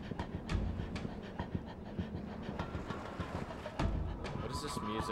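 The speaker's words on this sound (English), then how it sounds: "There's like breathing going on in the background." Heavy rhythmic panting breaths run through island-style music in an old pirate video game, with a few sharper beats and a brighter musical passage near the end.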